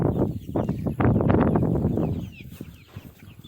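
A pen holding twenty-odd red sex link chicks gives off a burst of busy, close clucking and cheeping that thins out toward the end, with no one talking.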